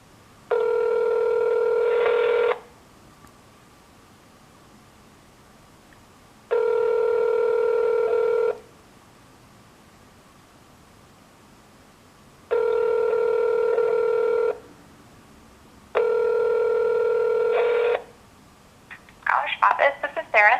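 An outgoing call to an office rings back with four evenly spaced, two-second telephone tones separated by pauses, loud and clear, followed by a short clatter at the end.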